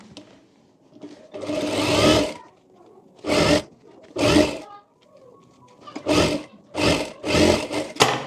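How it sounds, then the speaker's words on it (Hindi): A sewing machine stitches a boat neck princess cut blouse in short bursts of rapid, close mechanical whirring, separated by quiet pauses between runs. "अब यहाँ नीचे की तरफ हम सिलाई लगा लेंगे।"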